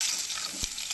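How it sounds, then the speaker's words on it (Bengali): Potatoes fry in hot oil in a wok, giving a steady broadband sizzle that fills the moment, with a brief soft knock partway through and no voices. "আলুগুলো লাল করে ভেজে নেব।"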